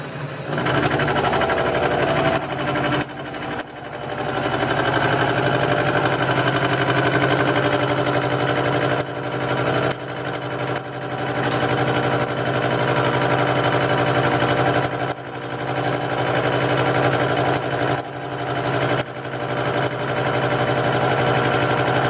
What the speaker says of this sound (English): we're going to machine this back to height, and then I'm going to cut the groove into here